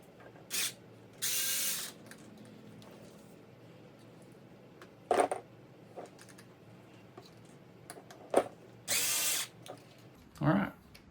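A power tool loosens two bolts on an RC car in short, sharp whirring bursts, four or five quick runs with quiet gaps and small clicks and handling noises between them.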